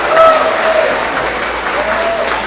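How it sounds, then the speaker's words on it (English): Applause from young students, parents and staff at a kindergarten-to-second-grade school award assembly, a steady wash of many hands clapping for readers, with a few voices calling out over it. "let's give another round of applause for all of these amazing readers"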